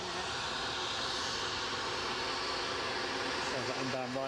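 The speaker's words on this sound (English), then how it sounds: "So that inbound Ryanair coming our way from Dublin." A Ryanair airliner inbound from Dublin approaches to land at Edinburgh, a steady distant engine whine and rumble, with a rising tonal sweep near the end and talk over it.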